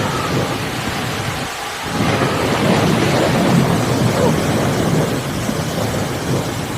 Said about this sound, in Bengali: মারাত্মক ঝড় বৃষ্টি,